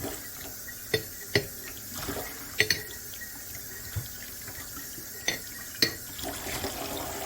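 Soap rinses out of a glass jar under a running tap, a steady wash of water broken by several sharp clinks and knocks of glass against the sink.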